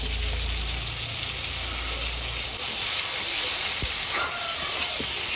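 A spice paste of cumin, chili, ginger and onion hitting hot oil with fried rita fish and potatoes, producing a loud, continuous hissing sizzle with low rumbling underneath, close by and without talk.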